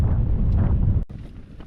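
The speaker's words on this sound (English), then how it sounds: "it's quite windy" Strong wind buffets the microphone on a cold, wet, exposed Northumberland hilltop where a tent is being pitched, a loud continuous low rumble that cuts out briefly, then returns slightly weaker.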